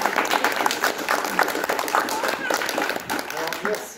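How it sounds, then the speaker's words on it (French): Audience applause at a live stage show, a steady mass of clapping from the crowd, with a voice talking over it throughout. "nous vous applaudissons aussi"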